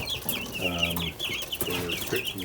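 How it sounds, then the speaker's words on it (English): Cornish cross chicks peep and chirp in a continuous, close chorus of high calls, with a few lower clucking notes mixed in. "So here are the Cornish cross chicks."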